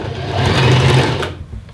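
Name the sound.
sewing machine straight stitching a faux fur jacket's raglan sleeve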